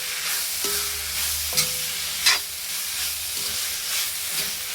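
Capsicum, tomato and onion sauté in a pan with a bright, hissing sizzle close by, punctuated by several short scrapes and knocks of a stirring spoon.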